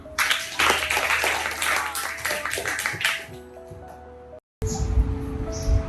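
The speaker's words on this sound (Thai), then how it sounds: "ให้นักเรียนทุกคนนะคะปรบมือให้กำลังใจเพื่อนด้วยค่ะ" Schoolchildren in a Thai school short film clap to encourage a classmate, a busy patter of many hands for about three seconds, fading out before a brief cut and quieter, tonal background.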